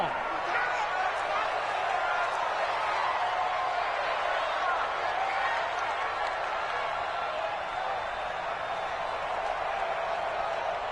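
Steady stadium crowd roar from a PS4 football video game, a dense continuous wash of cheering held at an even level throughout, with game commentary and player talk running underneath.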